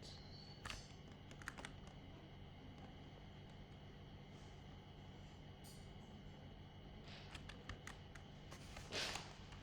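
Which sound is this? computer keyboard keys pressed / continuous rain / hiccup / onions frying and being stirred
computer keyboard keys pressed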